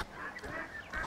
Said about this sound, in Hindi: चलो बतख बच्चे तुम लोग घर जाओ अब।